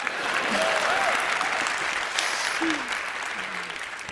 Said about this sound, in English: if you guys could just clap your hands a little bit more